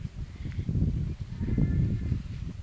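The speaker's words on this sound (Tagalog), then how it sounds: "Oh, may kalabaw na maingay." A carabao (water buffalo) calls outdoors near a chili garden, giving low, rough bellowing bursts over a steady background rumble.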